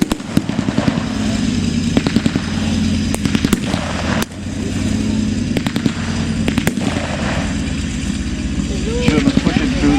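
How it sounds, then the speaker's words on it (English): At a WW2 battle reenactment at Fortress Wales, a grenade thrown against a tank goes off as one of several sharp blasts and gunshot cracks over a constant engine rumble, with a voice talking throughout. "And a German has just thrown a grenade against the tank."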